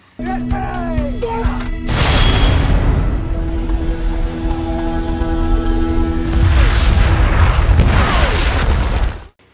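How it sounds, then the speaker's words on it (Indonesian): Artillery mortar fire from the 2019 war film Danger Close: The Battle of Long Tan, a dense, loud barrage of booms and blasts rumbling continuously, swelling toward the end before cutting off abruptly. "Tembakan demi tembakan dari artileri pun tampak menghujani barisan tentara Vietnam."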